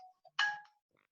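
A phone finder app gives a single brief electronic chime, a bright tonal ding that fades within a fraction of a second against near silence.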